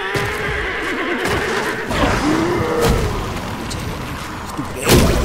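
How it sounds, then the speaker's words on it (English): A horse neighs in the video game Black Myth: Wukong, a long whinny rising over game ambience with rumbling effects and a sharp impact near the end. "That's a horse?"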